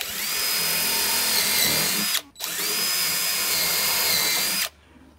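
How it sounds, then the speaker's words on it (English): A power drill bores a pilot hole for Torx exterior screws into sub fascia on a 100-year-old house, whining loudly and steadily in two long bursts split by a short pause. "But first I want to drill a pilot hole, because these screws we're using, nice Torx exterior screws, they might split this right here."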